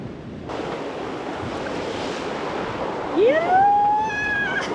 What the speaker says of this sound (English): saltwater splashes.